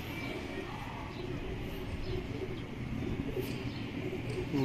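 Racing pigeons in a breeder's loft coo in low, continuous murmurs, with occasional brighter chirps and a steady hum of many birds close by.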